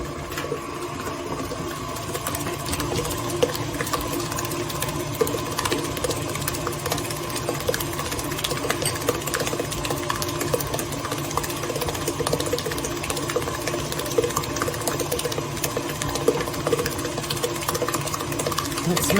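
An electric mixer whirs steadily through persimmon pudding batter with sugar, a continuous mid-level mechanical hum with faint clatter running without a break.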